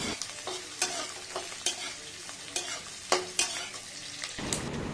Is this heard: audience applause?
no